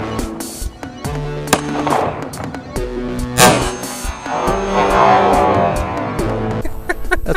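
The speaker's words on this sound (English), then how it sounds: "While the 9mm is a useful and effective handgun, .45 caliber speaks much louder." A 9mm and a .45 caliber handgun are fired into hard drives, producing several sharp, loud gunshots at uneven intervals, each with a short ringing tail, alongside some background rumble and clatter.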